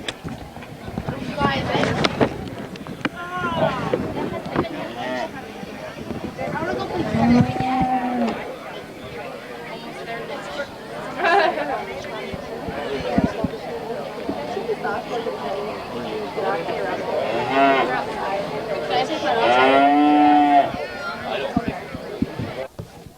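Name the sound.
cows mooing at an FFA agricultural fair livestock show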